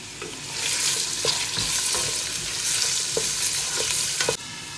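Onions sizzle in a cup of hot oil while being stirred for a degi aloo gosht, a steady crackling fry with scraping stir strokes throughout, no voices.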